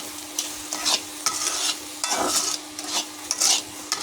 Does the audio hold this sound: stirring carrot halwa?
yes